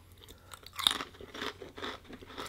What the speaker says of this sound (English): It's still got a crunch to it in the biscuit.